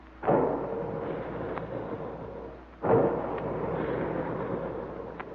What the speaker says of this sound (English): There go the big guns